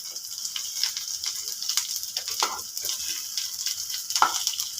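Poppy seed fritters (posto bora) fry in hot oil with a steady, close bright sizzle and crackle, broken by occasional spatters and light scraping.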